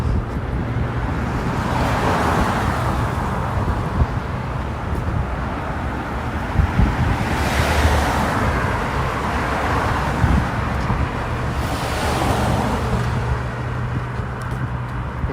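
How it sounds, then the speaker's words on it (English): Traffic rolls past on a snowy Toronto street, with two cars sweeping by in swells, one carrying a loud, rasping aftermarket exhaust, over a steady roadway rumble. "Needs to be a global ban on these obnoxious sounding exhausts."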